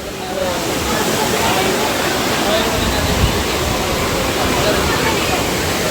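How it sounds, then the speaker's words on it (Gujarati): A waterfall pouring just outside a hillside temple, a loud, close and unbroken roar of rushing water that fills the whole scene with constant broadband noise. "અહીંથી પાણીનું જાય છે ધોધ"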